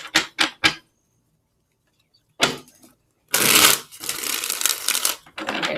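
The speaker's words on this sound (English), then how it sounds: "Okay, that was a good shuffle." Tarot cards are shuffled by hand, a few quick flicks, then a pause, then a longer riffling run of papery snapping that carries on to the end.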